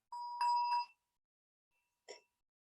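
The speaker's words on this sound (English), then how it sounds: "I'm gonna ring the bell." A meditation bell rings out in a clear, bright tone that hangs for nearly a second, then a second short, quieter strike follows after a pause, in an otherwise silent room.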